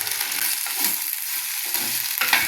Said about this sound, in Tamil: வெண்டைக்காய் வதக்கட்டு கல்லுப்பு ரெண்டு போட்டுக்குவோம் வதங்கட்டும்